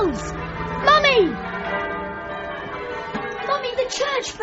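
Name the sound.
church bells ringing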